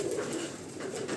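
Pigeons coo softly and repeatedly nearby, a low murmuring call that carries through the brief moment with no one speaking.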